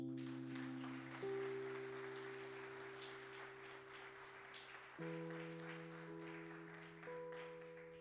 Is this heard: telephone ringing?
no